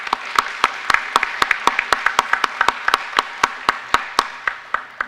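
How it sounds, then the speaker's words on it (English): Applause from an audience at a manufacturing signing day event honoring business and industry employers: scattered, fairly sparse hand claps in a room, steady for a few seconds then thinning out. "So if you don't mind, a round of applause for our business and industry employers."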